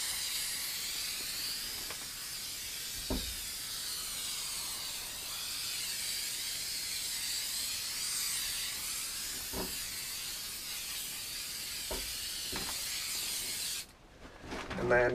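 An aerosol can of 3M Super 77 spray adhesive hisses in a long continuous spray onto a camper van wall during insulation work, a steady close hiss broken by a few faint knocks.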